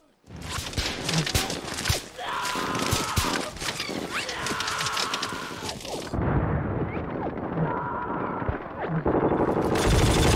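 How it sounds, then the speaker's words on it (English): Mortar and gunfire barrage from a World War II battle scene in the Band of Brothers series, loud and continuous with repeated blasts and rattling fire layered over a dense roar, briefly dropping then swelling again. "Mortars."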